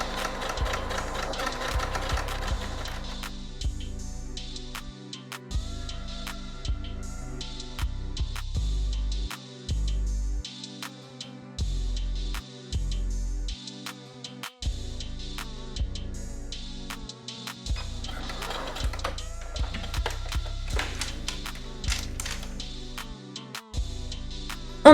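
A sewing machine stitches a garment lining in bursts, motor whirring in steady runs broken by short pauses, close and fairly loud with no voices.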